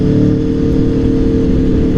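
Aprilia Tuono motorcycle engine revving hard and steady on the Isle of Man roads, a loud, continuous mid-pitched roar held close for the whole stretch with no voices.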